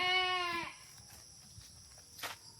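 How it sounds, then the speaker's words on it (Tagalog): A goat bleats loudly and close by on a rural farm, one long wavering call that stops abruptly, followed by quiet rustling and a brief soft scuff. "Ayan, ang aming kambing."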